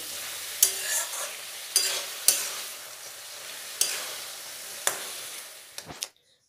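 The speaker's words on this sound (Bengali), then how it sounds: "দিয়ে এই পালং শাকের সাথেও খুব ভালোভাবে সবজিগুলো কষিয়ে নেব।" Spinach and mixed vegetables sauté in a pan under a soft, steady sizzle, broken by several sharp scrapes and clacks of a spatula stirring them, close up and without speech.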